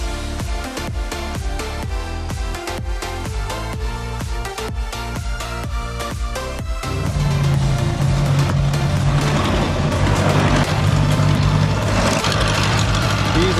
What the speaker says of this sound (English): anywhere the Bobcat can fit, I'm gonna start using that to clear the trail